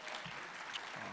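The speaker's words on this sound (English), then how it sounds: "Let's give him a round of applause for that call to action." An audience at a Martin Luther King breakfast event claps: a brief, faint, distant patter of applause in a large room.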